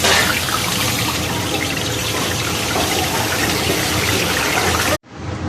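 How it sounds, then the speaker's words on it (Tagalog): Water left from washing rice is poured into a cooking pot of chicken stew with pepper, giving a steady, loud splashing rush that cuts off abruptly near the end. "Hugas bigas."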